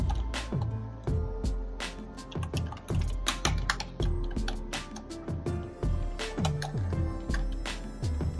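Fingers type an organization name into Google Sheets on a computer keyboard: a close, brisk run of clacking keystrokes in uneven bursts for several seconds, with no speech.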